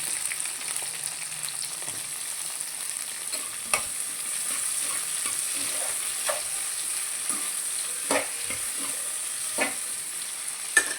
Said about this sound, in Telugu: దాంట్లోనే పచ్చిమిరపకాయ, దాంట్లోనే ఉల్లిగడ్డ వేసేద్దాం